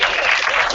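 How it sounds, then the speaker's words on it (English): An audience at a training-center event applauding, a dense, loud wash of clapping that holds steady through the whole brief moment with no voices standing out. "The biggest round of applause"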